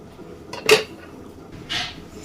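Metal kadai set down on a stove with a sharp clank, followed a moment later by a softer scrape of cookware, close and isolated.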